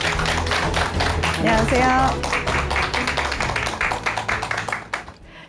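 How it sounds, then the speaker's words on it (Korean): Studio audience applause welcoming a guest on a Korean talk programme, steady rapid clapping throughout, a voice briefly speaking over it mid-way, then the clapping thins and trails off at the end. "큰 박수로 맞아주시기 바랍니다."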